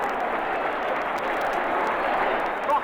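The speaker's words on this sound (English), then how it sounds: "Everybody rises. Listen to the crowd." A large stadium crowd roars and cheers steadily at a South African sporting event as a runner nears the finish, a dense, loud, continuous wash of voices with no break.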